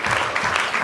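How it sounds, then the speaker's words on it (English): Audience applause after a talk on transhumanism, a dense, steady burst of clapping that fills the short moment with no voices over it. "Give a round of applause."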